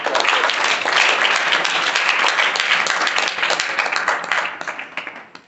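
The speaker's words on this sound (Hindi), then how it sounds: "जोरदार तालियों के साथ" An audience bursts into loud, dense applause, many hands clapping together close by for several seconds before the clapping thins out and fades away.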